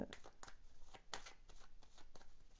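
Tarot cards shuffled by hand in a steady run of crisp riffling flutters, close and fairly quiet, with no talking over them.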